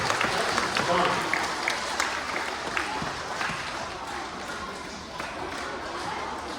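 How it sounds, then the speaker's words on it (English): A crowd at a school assembly gives a round of applause, moderate scattered clapping that fades gradually while voices carry over it. "let's give a nice round of applause to all of you for being a great participant in our rock and roll festival"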